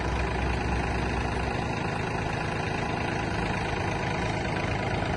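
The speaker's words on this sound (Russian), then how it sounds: "Трактор Yanmar F190" A Yanmar F190 mini tractor engine runs steadily at idle, a continuous low chugging rumble close by with no pauses or voices.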